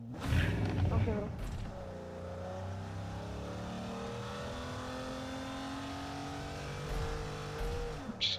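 A vehicle engine in the BGMI battle royale game revs and then holds a steady drone. A player talks briefly at the start, and the engine stays loud throughout, with a short burst near the end.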